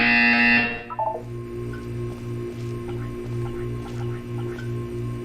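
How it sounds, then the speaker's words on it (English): A loud, harsh electronic buzzer in the Portal 2 video game blares for about a second, then cuts off, leaving a low pulsing hum and faint drips in a quiet room. "You will hear a buzzer."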